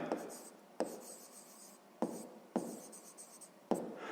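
A pen scratches out an equation by hand on paper during a sixth-grade maths exercise, with short rubbing strokes and distinct taps as each stroke starts, close and quiet.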